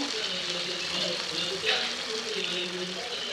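Pieces of hilsa fish go into a pan of spiced, sautéed vegetables, giving a steady, fairly loud sizzle that holds throughout with a brief swell partway, while a voice murmurs faintly underneath.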